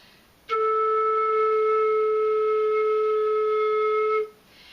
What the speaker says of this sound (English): Cover the bottom with a flat palm and blow into it.